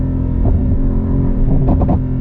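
Mercedes-AMG GT63 coupe with a V8 hybrid engine, heard from inside: a steady loud rumble with a rising burst of revs near the end, no talking.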